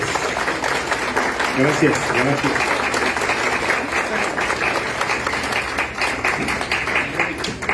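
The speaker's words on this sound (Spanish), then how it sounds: "lo recibimos con un gran aplauso" A crowd gives loud, sustained applause to welcome an author at a book fair presentation. Dense clapping continues throughout, with a brief spoken word partway through.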